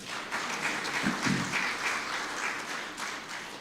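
An audience at a felicitation ceremony applauds, a sustained wash of many hands clapping together, moderately distant and even from start to finish.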